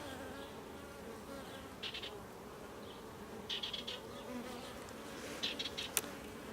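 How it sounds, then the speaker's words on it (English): A soft, continuous hum of many honey bees during a late July hive inspection, with brief louder buzzes rising now and then as individual insects pass close. "there's a lot more bees on this one"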